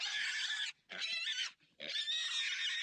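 A pig character in the You Don't Know Jack 2015 quiz game gives three loud squealing oinks in quick succession, each separated by brief silence.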